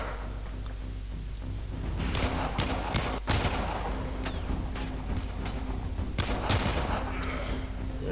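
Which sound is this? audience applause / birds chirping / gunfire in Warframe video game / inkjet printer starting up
gunfire in Warframe video game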